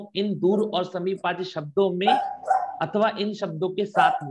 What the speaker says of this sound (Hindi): कुत्ता भौंक रहा है किसी यहाँ?